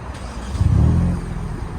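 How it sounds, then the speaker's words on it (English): A 2022 Hyundai Kona N engine is remote-started from outside the car, turning over and catching, rising briefly to a low rumble before settling into a steady idle nearby. "to remotely start this car from the outside"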